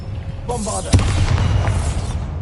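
A Bombarda blasting spell goes off in the video game Hogwarts Legacy, a single sharp boom with a deep rumbling tail over a low game soundscape.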